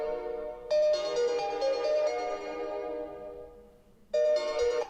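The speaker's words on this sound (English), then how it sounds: "I'm going to play a ringtone on my Xperia Z5 Premium" A melodic ringtone plays from the speaker of a Sony Xperia Z5 Premium phone, a bright synthetic tune that starts loudly, runs for a few seconds, pauses briefly, then starts again.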